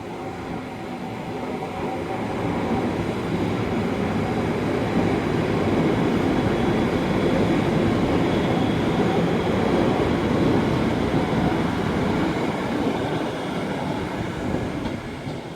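The 10:33 train to Manchester Airport pulling out of Carlisle station, a loud, sustained rumble and rattle of rolling wagons that builds then eases slightly over about fifteen seconds.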